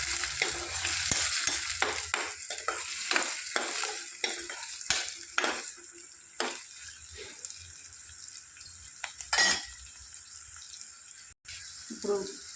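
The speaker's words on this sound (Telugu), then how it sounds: "ఒకసారి కలుపుకుందామండి." Onions fry in a pan with cumin while being stirred, crisp sizzling punctuated by repeated clattering scrapes of the spoon, fading to quieter frying with occasional stirs.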